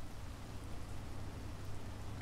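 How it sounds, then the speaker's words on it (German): Steady rain in the video game Space Engineers, a dense even hiss of falling drops that stays level throughout with nobody talking. "hier regnet's ja"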